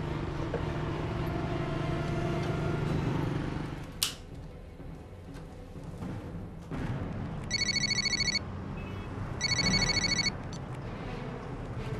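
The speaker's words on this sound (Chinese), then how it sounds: "让秃子准备好，胡志军会马上来电话。" Indoors, a telephone rings twice in short electronic trilling bursts, the two rings separated by a brief pause, over a low background rumble.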